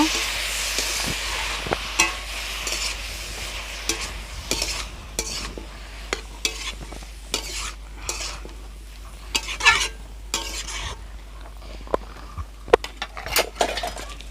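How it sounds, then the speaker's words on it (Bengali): Boiled banana flower and potato being stirred in an oily pan for an egg and banana flower dish, with scraping spoon strokes and soft sizzling in irregular bursts, close and moderately loud. "নেড়ে নেব"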